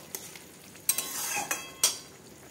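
Potato curry with butter and garam masala is stirred in a sizzling pan, a spoon scraping and knocking against the metal in a few sharp strokes, close and clear.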